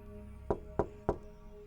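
Three evenly spaced knocks rap on a window at night, sharp and close, each about a third of a second apart, against a hushed room.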